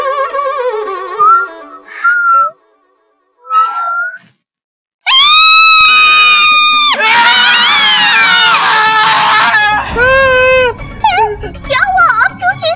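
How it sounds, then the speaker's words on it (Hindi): Shrill cartoon-style screams of fright from a child-voiced character and a companion, a loud sustained wail joined by excited yelling, preceded by brief chatter. "आप क्यों चीख रहे हैं डरते डरते?"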